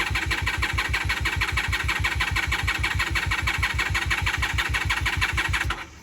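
A 1997 Honda Magna 750 (VF750C) motorcycle engine, a rebuilt wreck, churns steadily and loudly with a fast even cranking rhythm for nearly six seconds before it stops abruptly.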